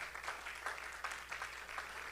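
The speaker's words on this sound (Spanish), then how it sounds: "Denle un aplauso fuerte al Señor." Congregation clapping loudly for the Lord at a Spanish-language church service, a quick, rhythmic patter of hand claps in a reverberant room, fairly faint and brief.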